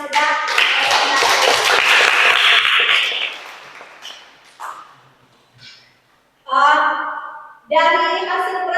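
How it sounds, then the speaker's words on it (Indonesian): A short round of clapping from a small group at a classroom presentation session for Catholic religious education teacher training fills the first few seconds, then fades out as voices take over. "mari beri tepuk tangan"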